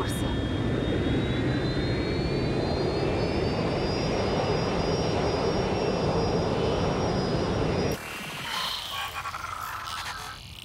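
Jet airliner engine roar in Watch Dogs Legion, a loud steady broadband drone with rising whine that cuts to a quieter, different interior hum near the end.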